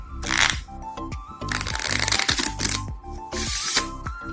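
Several rapid card-shuffle riffles in a row, crisp fluttering rattles with sharp cracks as the deck is bridged and squared, close and fairly loud.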